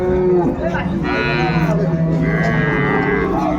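Dairy cattle at Ambari livestock market in Dinajpur, a loud close cow moo rising and falling over market chatter and background voices.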